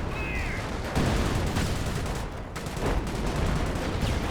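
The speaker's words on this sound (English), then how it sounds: "Good mortar hit there." A mortar shell lands in Company of Heroes amid continuous battlefield gunfire and explosions, with dense bursts of shooting throughout and a heavier impact swell near the end.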